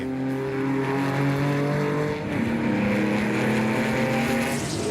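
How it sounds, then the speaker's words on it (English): A Chevron B8 race car with a failing engine limps back to the pits, its steady engine drone and whining harmonics holding close and loud, dipping briefly and then rising again, with no talk. "it looks like Jonathan du Toit's Chevron B8 has given up the ghost and forces him to retire from the race as he limps the car back to the pits"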